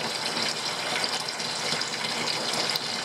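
A washing machine tub fills with water in a steady, continuous gushing rush from a tap, close by and uninterrupted, with no talking.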